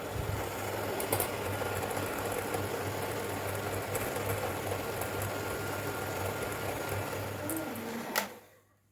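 A steady electric mixer whipping egg whites with sugar whirs continuously with a low droning hum and a slight rattle, running at constant speed before cutting off near the end.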